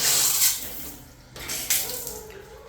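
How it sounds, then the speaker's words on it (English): Water runs from a faucet in a rental house in Dauin, Philippines, a steady broadband gush at close range with louder bursts as the flow shifts; no talk is heard. "turn on all the faucets"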